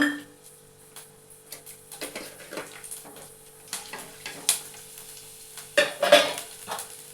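Garlic cloves and coriander seeds fry in a pan with a gentle sizzle, stirred in uneven scraping bursts that grow busier toward the end, with no speech.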